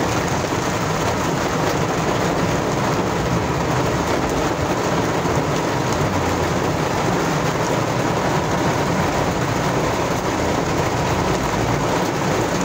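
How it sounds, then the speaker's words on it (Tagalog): Dense, steady rushing noise of heavy rain pours without pause on Quezon Avenue, Quezon City, in heavy traffic, loud and close, drumming on a surface. "Bigla lang bumuhos ang ulan. Grabe ang ulan"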